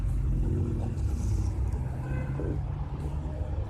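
Paris city buses rolling along a quay in traffic, a low steady engine rumble with passing vehicle noise and a brief hiss, heard from nearby on an open-top tour bus.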